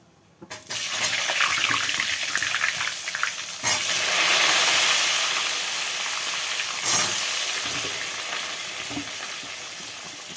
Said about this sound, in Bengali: এবার আমি আলুগুলো ভেজে নেবো মাংসের।